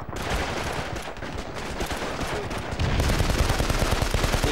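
Sustained machine gun fire from a World War II shooter set in Sicily against Italian troops, a dense rattling burst throughout that grows louder and heavier in the last second and a half, with no talk over it.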